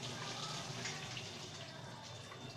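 Water is poured over sprouted mung beans to rinse them, a faint steady splashing trickle that runs continuously without pause.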